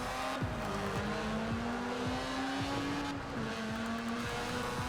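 A Mazda Cosmo engine in Forza Horizon 4 drones steadily and loudly as the car drives, pitch rising through the gears with brief drops at each shift, a continuous close engine note with no talk.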